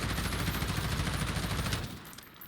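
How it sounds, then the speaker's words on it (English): Rapid automatic fire from an M4 rifle aimed at a wall in a video game, a dense continuous burst of shots for about two seconds, then stopping abruptly into quiet. "I'm going to shoot at this wall, and I'm going to walk and shoot at the same time."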